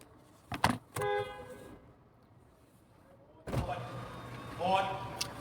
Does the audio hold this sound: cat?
no